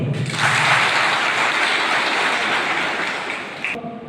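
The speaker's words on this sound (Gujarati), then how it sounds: "તાળીથી વધાવશો" An audience at a ceremony honoring Jafrabad municipality sanitation workers gives loud, sustained applause, a dense wash of clapping that carries on steadily before cutting off abruptly near the end.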